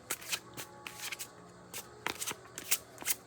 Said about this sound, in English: I just love the way linen cards bend.